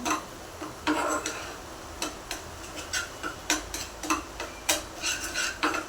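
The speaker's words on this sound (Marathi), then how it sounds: "दोन मिनिटभर आपण हलवून घेऊया चटणीला तेल सुटेपर्यंत" Tomato chutney stirred in oil in a pan, a spoon scraping and tapping the metal in irregular bursts, close and fairly clear with no talking.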